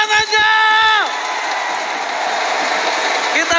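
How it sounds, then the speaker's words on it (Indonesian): Arena crowd at an MLBB M4 esports elimination match cheering and clapping after the host's call, a loud sustained roar that swells briefly and then holds steady, with a voice over it at the start. "mana tepuk tangannya?"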